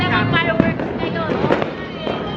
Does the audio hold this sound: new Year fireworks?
yes